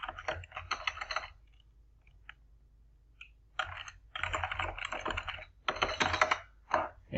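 Bursts of computer keyboard typing as a folder name is entered, rapid close clicking in three clusters separated by quiet pauses, with a few isolated key taps in between.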